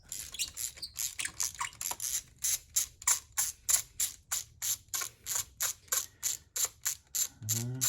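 A wrench ratchets while unscrewing a spark plug, about twenty crisp clicks in an even rhythm, close and fairly quiet, then a short scrape at the end.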